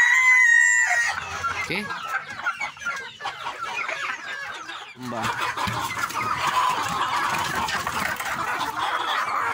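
Free-range village chickens, ayam kampung, cluck steadily with a rooster crowing at the start, close and lively, while a few people talk briefly nearby.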